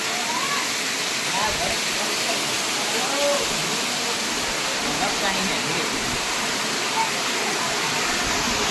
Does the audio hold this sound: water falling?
yes